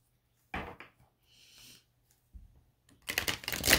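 Tarot cards are shuffled by hand in short bursts of riffling and rustling, with quiet gaps between them and a louder, denser shuffle at the end.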